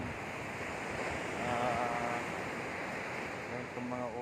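Sea waves wash in steadily at a nearby beach, a broad continuous surf roar with some wind, moderately loud and unbroken, with faint voices in the background.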